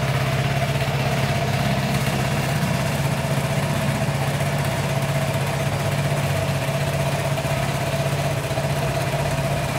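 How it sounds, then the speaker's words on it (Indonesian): A 2019 Vespa LX 125 scooter engine idles steadily and close by, a constant low hum with a faint higher whine and no revving, heard alone without talk. "Ini adalah suara mesinnya."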